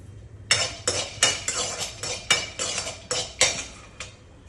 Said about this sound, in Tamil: அடுத்தது வேர்க்கடலை வச்சிருக்கேன், அதை வறுக்கிறேன்னா.